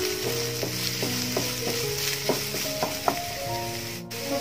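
Chopped large onion sautéing in a pan for a Kerala evening snack, a loud continuous sizzle broken by a regular series of spatula scrapes and taps against the pan, close up with no voices.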